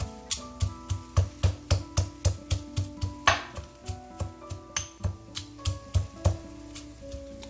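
Ajwain and cloves are pounded in a mortar for rasam, a fast regular run of sharp close thuds, roughly three per second, each knock ringing briefly before the next.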